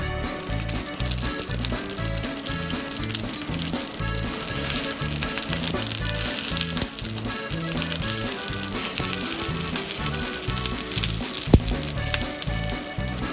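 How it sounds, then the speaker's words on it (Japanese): Rice paper chive dumplings fry in hot sesame oil in a frying pan, giving a steady, close, dense sizzle with fine crackles running unbroken throughout, one sharp tap near the end, and no talking. "フライパンでごま油を熱し、両面カリッと焼きます。"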